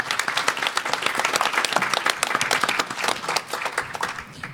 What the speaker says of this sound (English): If we could have a round of applause, and then we'll open it up.